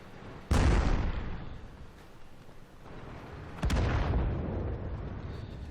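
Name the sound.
tank gunfire and shell impacts in the video game World of Tanks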